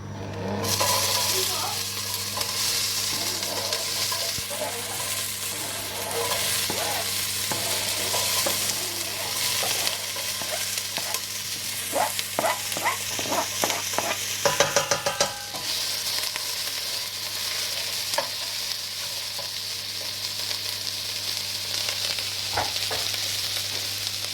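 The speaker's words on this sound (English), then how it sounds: "So we're just going to put in the onions, the peppers and the ginger." Onions, peppers and ginger stir-fry in a hot pan for a home-cooked pineapple chicken meal, giving a steady loud sizzle throughout, with bursts of clattering stirring and scraping around the middle.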